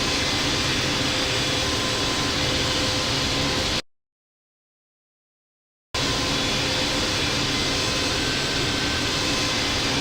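An American Airlines Boeing 777-200 jet airliner taking off from runway 25 right at LAX in the video game Infinite Flight, a loud continuous engine roar that drops out for about two seconds before resuming.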